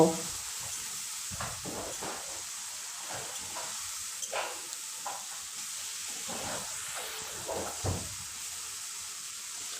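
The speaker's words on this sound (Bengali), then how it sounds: "সামান্য একটু জল দিয়ে মশলাটা ভালোভাবে কষে নেব" Spice paste of turmeric, cumin and chili powder with a little water sizzles in a pan, a steady quiet hiss broken by several soft stirring scrapes.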